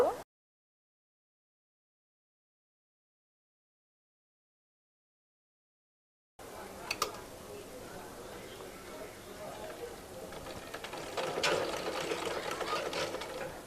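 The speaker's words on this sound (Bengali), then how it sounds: "তো এখন আমি গলা রাউন্ড অনুযায়ী এটা সেলাই করে আটকে নিব" A sewing machine stitches around the neckline of a baby frock, a steady mechanical chatter starting after a silent gap and running on moderately loud and close, with a voice talking over it.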